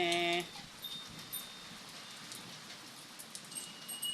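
Heavy rain falls outdoors as a steady hiss of drops on surfaces. It sounds moderately loud and even throughout, and no one talks over it.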